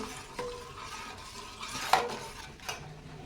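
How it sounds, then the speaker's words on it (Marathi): Premix stirred by hand into milk in a pot for a chilled summer sherbet with custard powder, giving soft scraping and light clinks of a spoon against the vessel, with a few sharper knocks, close and fairly quiet. "आता थोडे थोडे प्रीमिक्स दुधामध्ये ओतून एका हाताने हलवून घ्यायचे आहे"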